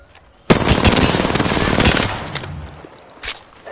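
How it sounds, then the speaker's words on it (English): Sustained automatic gunfire in the video game Apex Legends, a loud close burst of about a second and a half that fades into scattered shots and a final short burst. "The enemy is shooting at me."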